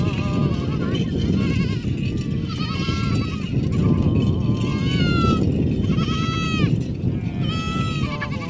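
Goats bleat again and again, several wavering calls overlapping in a busy outdoor setting on a desert journey, with steady rumbling background noise throughout.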